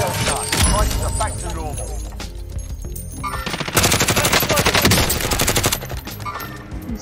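Automatic gunfire in Call of Duty: Warzone, dense rapid bursts of rifle fire sustained through much of the stretch, loud and close, with voices talking over it.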